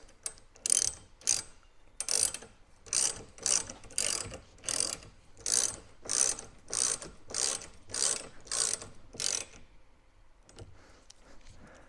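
Ratchet wrench tightening bolts on a soft top for a 2023 Polaris Ranger 1000XP, about fourteen evenly spaced bursts of rapid clicking, close and clear, ending in quiet.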